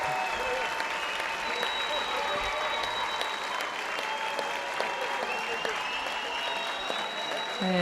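The crowd in a judo arena at a European Judo Open bursts into sustained, dense applause that carries steadily through the whole stretch, with cheering voices in the mix.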